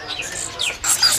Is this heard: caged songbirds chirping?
yes